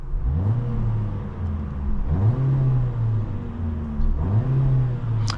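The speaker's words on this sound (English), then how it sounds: "we're gonna put it into our sportiest setting right now and give it a few" A 2025 Mercedes CLA 250 four-cylinder in sport mode revs three times in a row, each rise climbing sharply, holding briefly, then dropping back to a steady idle, loud and close with no talking.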